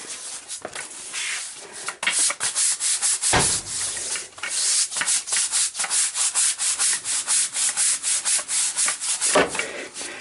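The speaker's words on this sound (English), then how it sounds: "Now I'm going to scrub it" A basement floor is scrubbed hard with a brush in rapid back-and-forth strokes, a loud, rhythmic rasping that pauses briefly before resuming.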